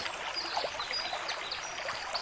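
A small stream flowing beside a field in Gönen, Balıkesir, burbles and trickles softly at a distance, a faint, steady watery murmur with no voices.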